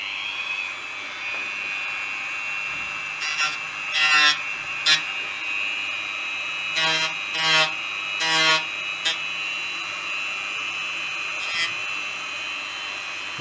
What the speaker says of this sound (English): So I'm just going to use a Dremel,